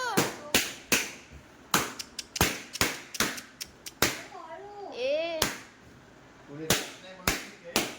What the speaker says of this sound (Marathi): जाम फुगे फोडलेस. हा ते पण फोड.